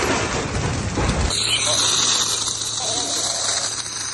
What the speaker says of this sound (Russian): Тут лафет работает, там лафет работает, тут ствол.